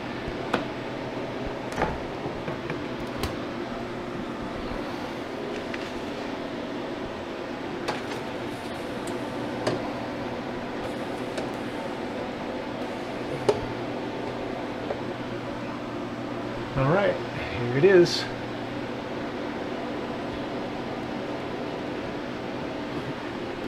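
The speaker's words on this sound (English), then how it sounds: "All right, so into the freeze dryer." A home freeze dryer hums steadily through a drying cycle for freeze-dried Dutch Bros coffee drinks, a constant mechanical drone with occasional faint clicks and a brief louder clunk near the end.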